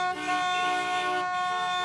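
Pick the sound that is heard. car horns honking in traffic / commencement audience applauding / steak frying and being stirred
car horns honking in traffic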